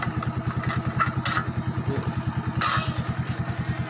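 Suzuki Smash FI motorcycle engine idling steadily up close with an even rapid thump and a loose rattling plate, plus a few brief clattering bursts and no voices.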